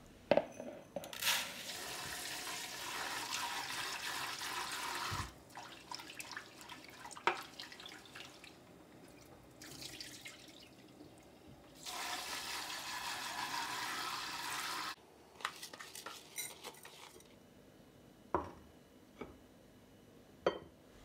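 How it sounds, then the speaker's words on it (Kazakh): Boiling water is poured over washed beans and rice grains in a pot while making Nauryz kozhe, heard as several splashy pouring bursts separated by quieter gaps with faint drips and knocks. "Енді осы дәндердің үстіне ыдыс толғанша қайнаған ыстық су құйып шығамын."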